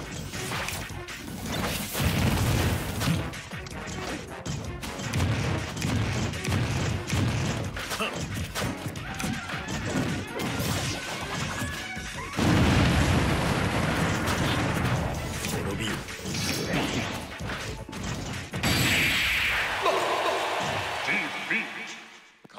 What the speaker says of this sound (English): Everything else was stupid ass explosions